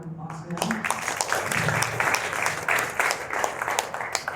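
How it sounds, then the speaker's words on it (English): Audience applause filling a room at a community gathering, a steady broad wash of clapping sustained throughout with some voices mixed in. "So just one more round of applause for them."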